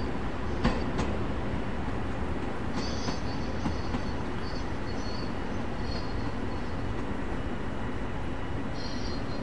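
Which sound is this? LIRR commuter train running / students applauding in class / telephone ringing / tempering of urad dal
LIRR commuter train running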